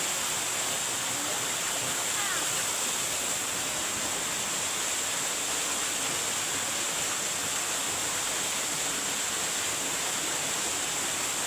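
A small waterfall in Barangay Dalama, Lanao del Norte, roars steadily with broadband rushing water, constant and close throughout, with no other sounds standing out.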